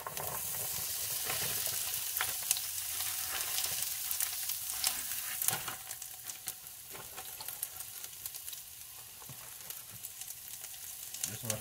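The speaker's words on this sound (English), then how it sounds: "now we've added about 2 tablespoons of oil to the pan, and we're going to cook our green peppers and onions." Green peppers and onions fry in about two tablespoons of oil, making a bright, continuous crackling sizzle that stays loud and close, easing slightly partway through while scattered pops and stirring sounds keep going.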